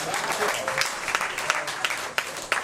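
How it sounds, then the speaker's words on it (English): A crowd at a live hip-hop show at a small venue claps steadily in a brief round of applause, with several sharper individual claps standing out and faint voices in the background. "Round of applause."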